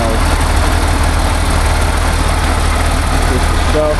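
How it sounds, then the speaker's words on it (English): A motor grader's heavy diesel engine runs steadily up close with a loud, continuous low rumble and a constant vibrating drone on a muddy road. "We're going to get the motor grader to pull him out."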